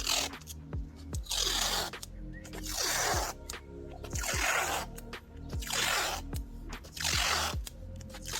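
Masking tape pulled and unrolled along a painted parking lot line, repeated close ripping and peeling bursts roughly every second or two, each with a sticky tearing rasp and crinkle, no speech.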